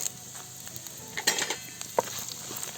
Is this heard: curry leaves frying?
yes